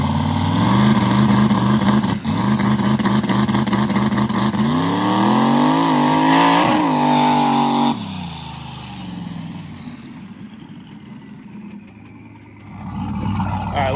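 A turbocharged mega truck engine held on a two-step launch limiter, revving loudly and rising in pitch over several seconds. It then drops to a rougher, lower idle with a whistling tone.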